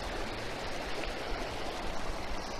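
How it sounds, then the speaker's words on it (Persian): A stream flows through Baghurchar village in Herat, its water making an even, continuous rushing wash, near and unbroken. "صدای آبرم شنیدیم و لذت بردیم"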